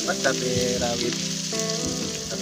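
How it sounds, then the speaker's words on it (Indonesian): Chopped bird's eye and green chilies stir-fry in hot oil in a pan for a spicy noodle dish, giving a steady close sizzle with a few scraping strokes of the spatula. "kita bisa masukkan juga potongan cabai rawit dan cabai hijaunya ya. Kita akan tumis ini sampai setengah matang juga."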